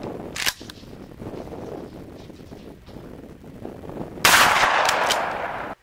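A Federal 2¾-inch 1-ounce 12 gauge slug fires with a sharp, loud report, followed by a long, noisy burst of wind across the microphone outdoors.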